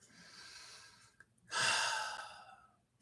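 A deep breath: a soft inhale, a short pause, then a louder, longer sighing exhale that fades out, close and quiet, with no talking.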